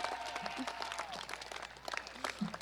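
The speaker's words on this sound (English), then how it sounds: "Yes, I think you should applaud your teachers," A graduation crowd in a stadium applauds its teachers, a fairly faint scattered clapping with a few brief voices and cheers mixed in across the short stretch.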